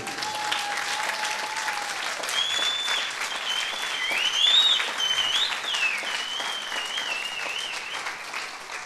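A church congregation claps together in a steady, full wash of applause, with whistles and a thin tonal line rising over the clapping partway through.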